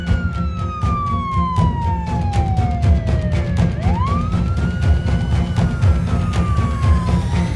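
A wailing ambulance siren sweeps down then rises again as the vehicle passes close, steady and loud over low traffic rumble throughout.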